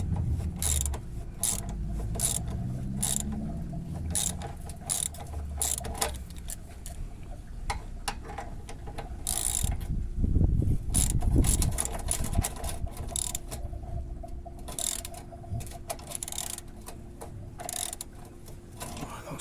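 A ratchet clicks in repeated bursts as it undoes a nut on a turbo clamp under a BMW E60 525d, with close, sharp pawl ticks and brief pauses between strokes.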